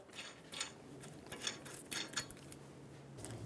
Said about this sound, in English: Remove the lug nut.